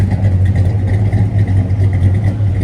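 A 1966 Pontiac GTO with a Tri-Power 389 V8 and dual exhaust idles close by with a steady, deep, loud rumble, no talk over it.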